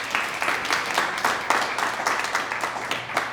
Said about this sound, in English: let's give them a round of applause if we can